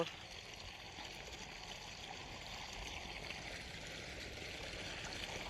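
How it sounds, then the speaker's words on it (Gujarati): Irrigation water trickles and gurgles softly through the channels of a wheat field, a faint, steady flow with no talk. "પાણી વાળવાનું ચાલુ છે"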